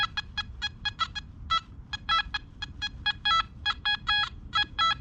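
Nokta Makro Anfibio Multi metal detector sounding in heavy trash, giving a fast run of short, clipped multi-tone beeps in rapid bursts over a low background rumble.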